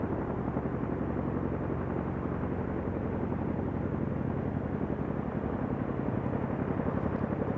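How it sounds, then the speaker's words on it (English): Chinook helicopters lowering M777 howitzers during an Indian Air Force exercise, heard as a steady, continuous rotor and engine rumble that stays at an even, moderate level throughout without voices. "you can see the Chinook helicopters lowering the M777 guns"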